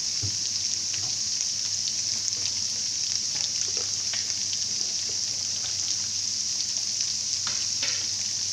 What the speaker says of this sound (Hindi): अदरक और लहसुन फ्राई हो गया।